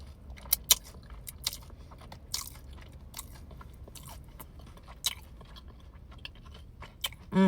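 Crunchy breaded mozzarella sticks from Dave's Hot Chicken being bitten and chewed up close, with sharp crisp crunches at irregular intervals over a quiet background.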